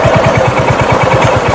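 A Royal Enfield Hunter 350 motorcycle engine runs close up, loud with a steady, rapid low thumping pulse at idle.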